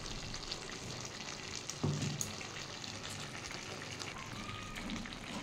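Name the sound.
water from the mixer jar poured into sizzling poppy-seed paste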